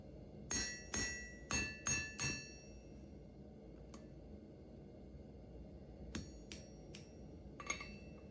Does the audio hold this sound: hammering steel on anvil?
yes